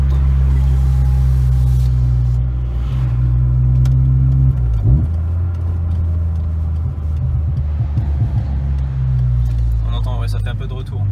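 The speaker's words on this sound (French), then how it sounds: "Il y a un pop and bang soft pour pas abîmer le moteur." Peugeot 206 RC engine heard from inside the car, a steady loud rumble that rises with revving and lets off with a few soft exhaust pops and crackles, with people talking over it.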